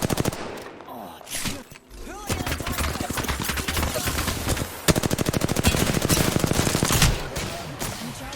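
Rapid automatic gunfire in Apex Legends on the Season 14 Kings Canyon map: loud, dense bursts of shots in fast rattling strings, with brief lulls and an overlapping second weapon, near and continuous for most of the stretch.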